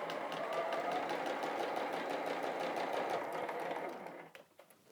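A sewing machine stitching quilt patchwork squares and running off onto a scrap, a close, steady, fast needle whir that continues for about four seconds before it slows and stops.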